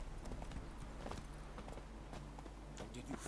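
Geralt's horse Roach in The Witcher 3 sends out a quick, continuous run of hoof clip-clops, fairly soft and steady across the whole moment, with faint game ambience beneath.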